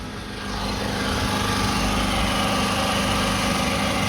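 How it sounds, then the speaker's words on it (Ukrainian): A portable power generator running during a power outage in a shoe repair workshop, a loud, steady engine drone with a low hum that swells in within the first half second and then holds constant. "ми на генераторі тому цей шум це від генератора"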